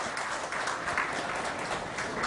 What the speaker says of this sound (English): Round of applause for Mr. Sihag.